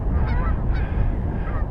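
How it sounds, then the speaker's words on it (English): A goose honks twice in quick succession on a river nesting island, close and loud, followed by a fainter third call against steady outdoor background. "I think I see another goose over here."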